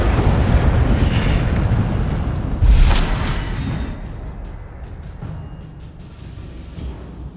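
Incendio fire spell cast in Hogwarts Legacy, a loud fiery whoosh and burst that flares sharply mid-clip over a dense, rumbling game soundscape, then trails off into softer crackling and ambience.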